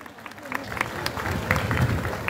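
Applause and crowd noise welcome the metropolitan mayor, Candan Yücel, onto the stage at the 20th traditional Tekirdağ plateau festival. The clapping is fairly loud and continuous, mixed with crowd murmur.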